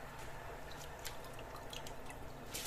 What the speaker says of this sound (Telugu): ఈ మరిగిన వాటర్లో మనం నానబెట్టుకున్న రైస్ వేసుకోవాలి.